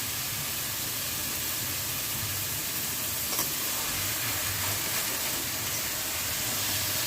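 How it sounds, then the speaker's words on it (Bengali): Chicken sizzles steadily in spices while being stirred, a soft continuous hiss with a faint scrape partway through and no voices. "দেখো, ভালো করে আমি নাড়িয়ে চাড়িয়ে নিচ্ছি। মশলাটার সাথে ভালো করে মিশে যাবে"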